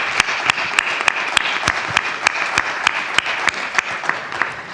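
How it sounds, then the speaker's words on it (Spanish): An audience applauds steadily at a book presentation on art, faith and architecture, with dense continuous clapping and sharp individual claps standing out throughout. "Así que un aplauso también para José Manuel Camacho."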